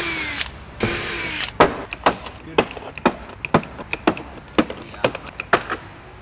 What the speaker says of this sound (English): that is going to allow you to pre-drill all the rest of your holes